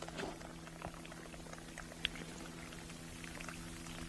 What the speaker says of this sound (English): We're pouring with boiling water.